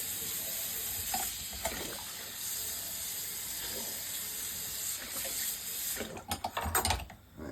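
Tap water runs steadily over hot pan handles to cool them after boiling eggs, a continuous hiss ending in a few splashy bursts near the close.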